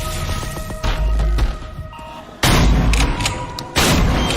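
Game-trailer gunfire comes as loud booming shots and bursts, each abrupt onset followed by ringing decay, in three or four separated volleys over a layered soundtrack with no speech.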